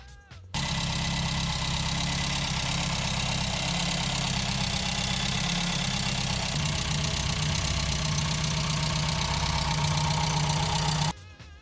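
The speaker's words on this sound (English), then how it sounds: "Just going to start her up, make sure everything's alright and nothing's leaking or anything." A Ford Fiesta Mk2 engine catches after a brief crank and settles into a steady, loud idle that runs on evenly for about ten seconds, then cuts off abruptly, with no voices.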